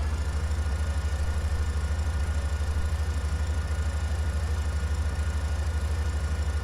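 A hook lift truck sits idling in a Farming Simulator mod, its engine giving a steady low throbbing drone with a regular pulse, heard alone and unchanging throughout.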